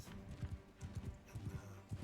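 Horse hooves clip-clopping in a video game, a quick irregular run of soft thuds close up, played alone without talk.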